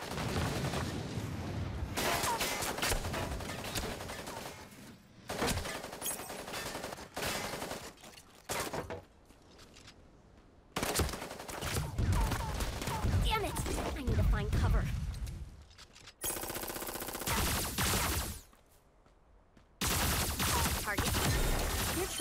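Video-game gunfire in the mecha battle royale Super Mecha Champions: loud, dense bursts of shots and booms come in several volleys, broken by short quiet gaps.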